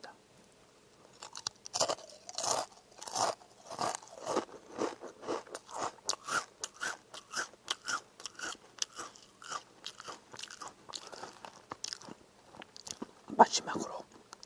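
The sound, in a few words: eating two pieces at once, chewing and crunching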